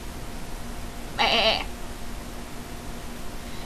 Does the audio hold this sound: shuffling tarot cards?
no